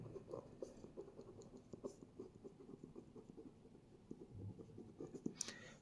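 Pen scratching across paper while a geometry question is written out by hand, a steady run of soft, close strokes and taps with no talk.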